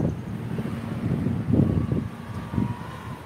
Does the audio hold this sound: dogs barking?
no